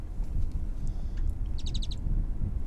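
Wild birds calling outdoors at Rockport, Texas, a quick run of repeated high chirps near the end over steady low wind rumble, with scattered fainter calls earlier.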